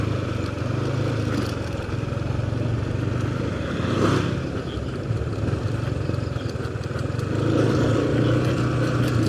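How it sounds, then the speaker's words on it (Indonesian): A motorcycle engine runs steadily on a dark rural village road at night, a continuous close rumble with a brief louder swell partway through and a rising roar near the end. "Oh ada motor"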